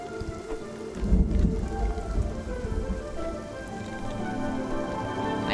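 Thunderstorm ambience in the video game Spiritfarer: steady rain hiss with a low rumble of thunder swelling early on, continuous and fairly loud, with no voices.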